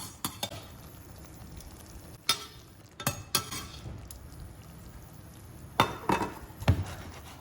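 Ricotta gnocchi stirred through tomato sauce in a pan, with a handful of scattered scrapes and clinks of a utensil against the pan over a faint low simmer, with quiet gaps between the strokes.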